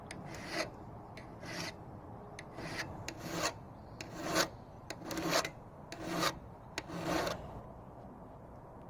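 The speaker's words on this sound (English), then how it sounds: "We sharpen this side of the blade following the existing angle, pushing down in an equal motion." A hand file rasps against a lopper or secateur blade along its existing bevel, about a dozen close, even strokes at a steady rhythm with short pauses between them.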